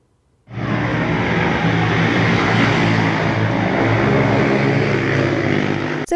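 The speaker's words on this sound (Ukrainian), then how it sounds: "Шум мотоциклів дошкуляє місцевим." A motorcycle with a loud open exhaust on a street in Kvasyliv at night, bursting in and holding a dense, steady engine roar at close range for several seconds, no talk.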